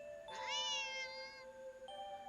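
A cartoon cat in a video game lets out a single clear, drawn-out meow at close range, followed by a brief softer chime-like tone against a quiet backdrop.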